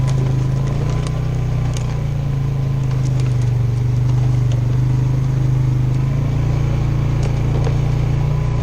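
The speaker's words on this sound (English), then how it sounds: "This is about the speed I normally drive through the woods at." A vehicle creeps slowly along a wooded farm trail, its engine a steady low drone throughout with faint rattles and clicks on top.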